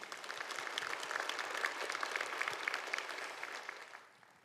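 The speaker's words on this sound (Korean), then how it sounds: "다시 한번 박완수 경남도지사께 큰 박수 부탁드립니다." An audience at a regional forum in a hall breaks into sustained applause, a dense even wash of clapping that fades out at the end.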